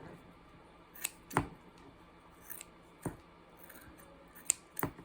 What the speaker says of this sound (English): Sometimes I like to go in too and snip, just so it makes the pieces easier